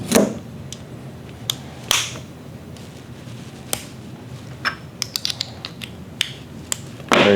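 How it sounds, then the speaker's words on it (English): A Seekins Precision rifle bolt being quickly reassembled by hand, a series of crisp metallic clicks, snaps and sliding scrapes close up, irregular and quickening toward the end. "Complete bolt reassembly."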